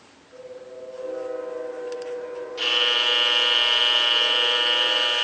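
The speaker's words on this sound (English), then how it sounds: "That's the sound of the fluorescent light." Fluorescent light picked up by a portable recorder as a steady electrical hum and buzz, stepping up abruptly into a brighter, louder whine partway through, heard alone without talk.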